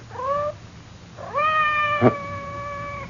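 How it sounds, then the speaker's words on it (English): A cat meows twice, a short call followed by a longer drawn-out one, with a single soft thump between them in an otherwise quiet indoor scene. "It sounded like Madame's cat, Francois."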